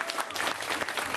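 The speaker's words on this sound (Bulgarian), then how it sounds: "Дайте ни силни аплодисменти, моля ви, за първия тази вечер." Loud, dense applause from a comedy club audience welcoming the first stand-up comedian of the night, a steady wash of clapping with no pause for its whole length.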